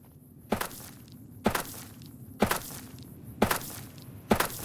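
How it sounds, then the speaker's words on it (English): Footsteps from a video game in a Games Done Blindfolded speedrun, five evenly spaced, fairly sharp steps about one second apart, heard alone over a low steady background. "Here he's listening for a specific footstep sound."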